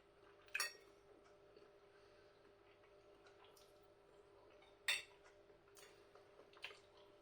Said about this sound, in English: I'll put it down a minute so I can cut a smaller piece of sausage